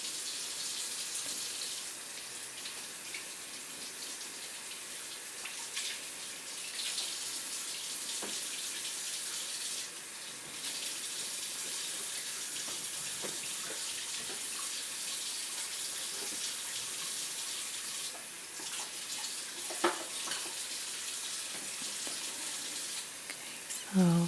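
Running water from a tap wets a surface around a stovetop's burners for cleaning, a steady close hiss that continues almost unbroken, with small clinks near the end.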